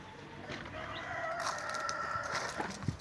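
Chickens, including a featherless-headed breed, cluck and call beside a garden coop, one louder crowing-like call standing out over steady outdoor background noise.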